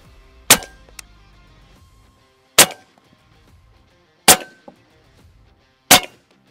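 A big-bore airgun fitted with a DonnyFL suppressor fires four times at even intervals, each a sharp, fairly loud crack with a short metallic ring.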